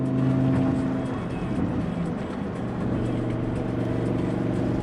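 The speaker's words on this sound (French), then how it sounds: "on va vraiment entendre ce que ça vaut vraiment le V10 atmosphérique" A Lamborghini's naturally aspirated V10 drones steadily from inside the cabin with the windows down, a loud continuous engine note that dips slightly and then holds.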